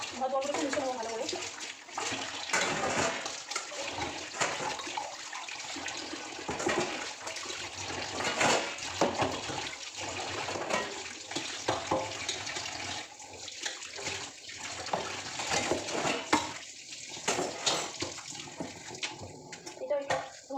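Dishes are scrubbed with soap under a running tap, giving continuous splashing water with clinks and rubbing, close by, while a voice talks now and then over it.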